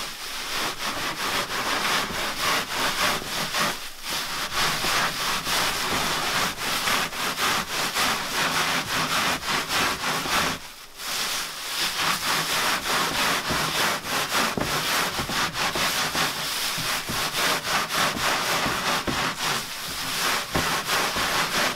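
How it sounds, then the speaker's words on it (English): A clump of stinging nettles is rubbed briskly by hand to strip it, giving a continuous rough rustling scrape with only brief pauses. "we just take a clump like this and start rubbing it"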